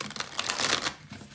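Tarot cards being shuffled by hand, a brisk crisp riffling and flicking close up, in quick bursts with a short lull near the end; no talking.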